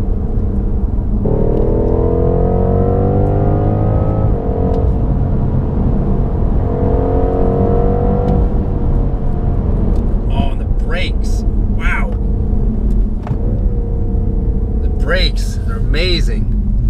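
A 2018 BMW M550i's engine accelerates hard through gears, rising harmonic tones climbing in pitch with shifts between pulls, loud and continuous from inside, with occasional voices and bright clicks later on.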